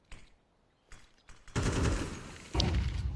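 Gunfire in a professional Counter-Strike match at the European Pro League, faint sporadic shots at first, then a loud sustained burst from about 1.5 seconds with a second sharp surge near 2.6 seconds.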